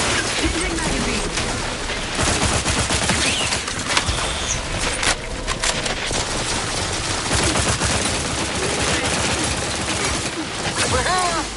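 Rapid, sustained automatic gunfire fills a firefight in the video game The Outer Worlds 2, loud and dense with bursts overlapping across the whole stretch, while a voice speaks intermittently beneath.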